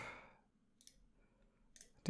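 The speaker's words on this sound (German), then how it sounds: "klicke ich jetzt noch per Hand weg." A few faint, sharp computer mouse clicks sound in a quiet room while leftover items are removed by hand during a Windows 10 setup, with one louder click at the end and no talking.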